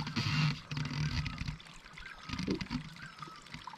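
Irrigation water trickles into a farm field, a soft steady flow, faint outdoors and mostly alone with a few brief background knocks.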